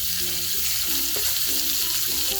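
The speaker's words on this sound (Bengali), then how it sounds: "ওই তেলের মধ্যে দিয়ে দিচ্ছি আগে থেকে কেটে রাখা ঝিঙে" Sliced ridge gourd sizzling in hot oil in a pan, a steady loud frying hiss throughout with faint stirring scrapes, no talk.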